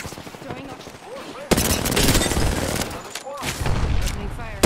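Video game gunfire: after a voice, loud rapid shots erupt into a dense volley that continues to the end, with talking heard through the firing.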